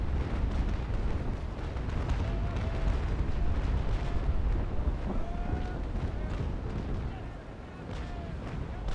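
Ship cannon fire in a Naval Action port battle, dense booming volleys rumbling continuously and heavily at mid distance, with a voice talking over the barrage.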